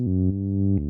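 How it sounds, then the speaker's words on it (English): A sustained Moog Mini wavetable synth tone with a rich stack of harmonics, holding steady and shifting timbre slightly partway through, played alone and fairly loud. "This is a wavetable from the Moog Mini synth,"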